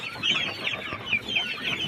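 A group of hens and roosters clucks continuously, overlapping calls forming a busy, close chorus with no voices.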